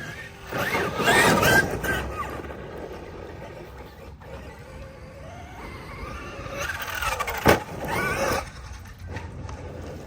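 A Traxxas Pro Scale RC sand car on Gravix tires races around a track and takes jumps, its small motor whining in rising and falling bursts, loud and close, with scrabbling tire noise and a sharp landing thud.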